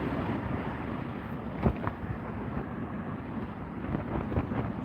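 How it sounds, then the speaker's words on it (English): Strong sea wind buffets a microphone on a kayak fishing trip, a loud rough rushing roar with repeated gusty thumps and pops that never lets up. "It's a lot windier than it looks."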